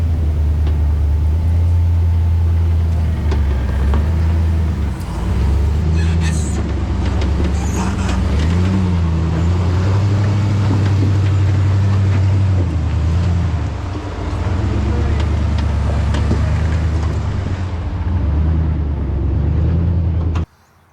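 A WJ Jeep buggy on 42-inch Pit Bull tires crawls over rough off-road terrain, its engine a loud, steady low rumble that rises and falls with throttle, heard close throughout before cutting off at the end.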